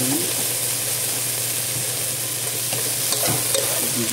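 Mung beans sauté in a hot pan with a constant loud sizzling hiss, broken by occasional stirring scrapes and clinks near the end.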